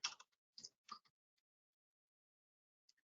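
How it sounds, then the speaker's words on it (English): A few quick keystrokes on a computer keyboard during warehouse order lookup in Sage 100 software, with soft close clicks in a short cluster, then silence and two faint taps near the end. "So I'm just gonna go ahead and type it in."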